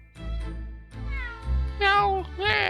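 A cat in the video game The Great Ace Attorney 2 gives a string of drawn-out, rising meows, close and clear, growing louder toward the end.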